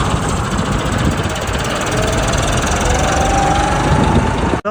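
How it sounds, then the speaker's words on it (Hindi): A John Deere 4x4 tractor engine runs steadily and loudly up close, a continuous rough mechanical drone that holds at even level for several seconds before cutting off abruptly at the end. "तो भाई ट्रैक्टर बाहर निकाल लिया"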